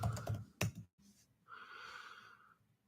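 A few quick clicks of typing on a computer keyboard come close and faint at the start, followed by a soft breathy exhale.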